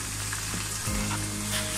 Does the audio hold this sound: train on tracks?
no